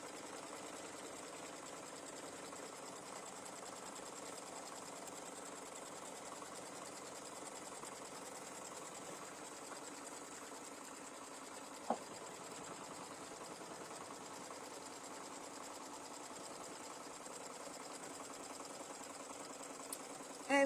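A sewing machine stitches a pumpkin-themed mug rug, giving a steady, even mechanical hum with no pauses. It runs continuously at a moderate level and comes to one brief click near the end.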